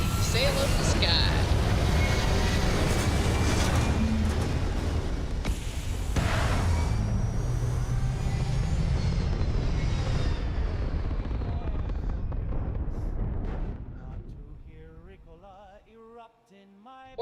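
A spaceship lifts off into the sky in a space video game, a loud continuous roaring rumble that holds steady, then fades and thins out toward the end.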